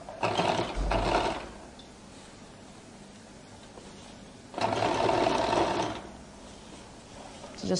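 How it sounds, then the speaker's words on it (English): A sewing machine top stitches along the edge of a flared skirt's lining in two loud bursts, with a quiet pause between them. "So I'll top stitch on the lining."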